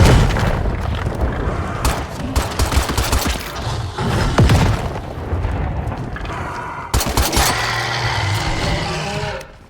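Gunfire in the video game State of Decay 3: dense, loud bursts of rapid shots and heavy booms roll continuously over about ten seconds, with a voice speaking briefly under the shooting.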